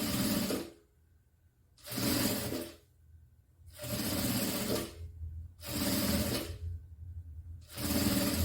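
Sewing machine stitching a large backpack panel in bursts of steady mechanical whirring, each about a second long, separated by short silent pauses, close and clear with no talking.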